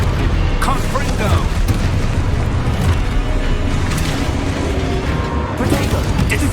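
Confringo blasting spells burst in Hogwarts Legacy combat, a dense run of loud booms and crackling impacts with no let-up, while shouted spell-casting voices ring over the din.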